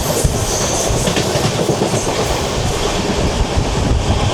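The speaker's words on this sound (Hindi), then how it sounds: "और ये ट्रेन कालका शताब्दी अभी अभी अपना स्टॉप लेकर के यहाँ से निकली है।" The Kalka Shatabdi train pulls out of Kurukshetra Junction, its steady rumbling roar and rhythmic clickety-clack of wheels over rail joints continuing loud and close, with no talking.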